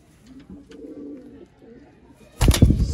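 Sialkoti pigeons give soft, low rolling coos close by, one drawn-out call after another, before a louder burst of noise breaks in at the end.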